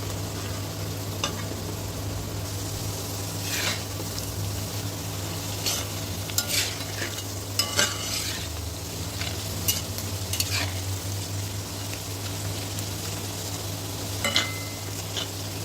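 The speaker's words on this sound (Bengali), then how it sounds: "উল্টে পাল্টে ভালো করে লাল করে ভেজে নেব।" Potato pieces for French fries crackle and sizzle in hot oil as they are turned and stirred, a dense steady fry with occasional sharp scraping clicks, close up and without speech.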